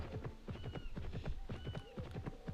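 Horse hooves clip-clop steadily in the video game Petz Horsez 2, a quick, even run of crisp hoofbeats close up, with no talk over them.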